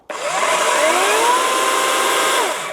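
A cordless battery chainsaw with a soft start whirs to life abruptly and runs at a steady high pitch for a couple of seconds, close and loud, then begins to wind down.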